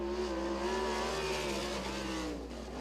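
A sprint car roars around the dirt oval at Lincoln Speedway during qualifying, its engine note rising and falling as it revs through the turn, steady and moderately distant.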